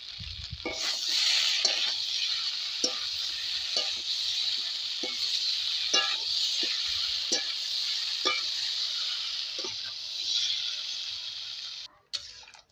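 Pointed gourd and shrimp curry simmering and bubbling in a wok, a steady close hiss with scattered small pops and ticks throughout, fading out near the end.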